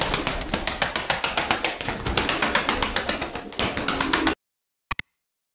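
Flock of tumbler pigeons flapping and beating wings in rapid repeated bursts, loud and close for about four seconds, then a couple of brief sharp flaps after silence.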